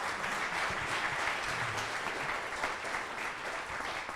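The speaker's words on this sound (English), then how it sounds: "have a warm round of applause for you" At an annual meeting, an audience gives a guest speaker a warm round of applause: thick, continuous clapping at an even level throughout the short stretch.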